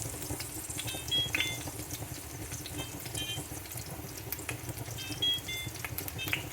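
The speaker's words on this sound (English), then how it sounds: "I am going to sear my sausage. Now I do use olive oil to do all this." Sausage searing in olive oil in a pan on a stove burner for jambalaya gives a steady close sizzle and crackle, with a few brief high clinks and scrapes from utensils against the pan.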